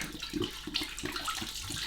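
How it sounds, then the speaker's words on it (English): Milk pours into a pan for homemade set yoghurt, a steady close liquid splash and trickle running throughout with no talking. "Start off by pouring the milk"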